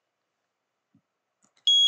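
After near silence with a couple of faint clicks, an electronic alarm in the Sneak Thief stealth game starts up with a sharp, loud, steady high-pitched beep.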